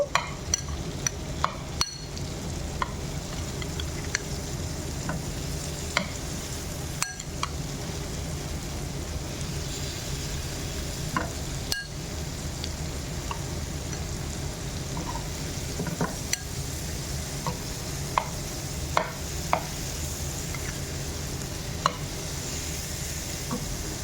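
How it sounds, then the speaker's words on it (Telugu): Marinated prawns frying in melted butter on a tawa, a steady close sizzle with scattered clicks and taps of placement and stirring throughout, no voices. "ఇప్పుడు మనం మ్యాగినేట్ చేసి పెట్టుకున్న రొయ్యలన్నింటినీ కూడా దీనిపైన ఒక్కొక్కటిగా వేసేసుకోవాలి"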